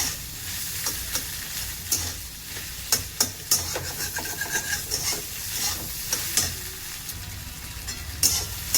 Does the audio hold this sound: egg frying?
yes